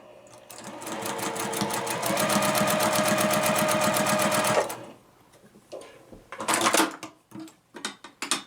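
A sewing machine stitches a quilt block, its needle running in a steady fast chatter for several seconds before stopping, followed by scattered clicks and handling noises as the fabric is pivoted.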